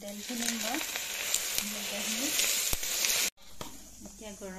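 Hot oil crackles and sizzles steadily as it is stirred in a pan, with scraping and clinks throughout and a short cut near the end. Faint background voices can be heard.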